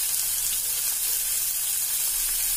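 Sliced onions and curry leaves sizzle in hot oil in a pan while cooking a soya chunks roast, a dense, steady close hiss with no pauses and no voices.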